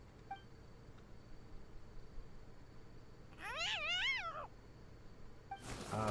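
A two-tailed cat in Genshin Impact lets out a pair of wavering, drawn-out meows over a low ambient hum in the game. Each meow is loud and close, and a sharp burst of noise comes right after.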